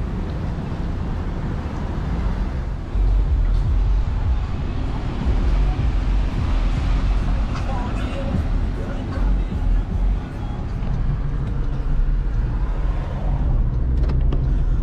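Car driving along International Drive in Orlando's tourist area, past the premium outlets, with steady road rumble and wind noise across the whole stretch, no talk.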